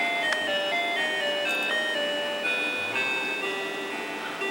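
Ultima 3 game music plays on an Apple II through a Phasor sound card: bright, beeping square-wave tones in a quick melodic sequence with nothing else heard.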